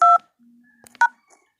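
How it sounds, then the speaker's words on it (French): Phone keypad tones sound as a short clear beep, a faint hum, then a couple more brief dial tones, quiet and close, dialing star 500 hash. "je vous invite dans votre téléphone, taper étoile 500 dièse"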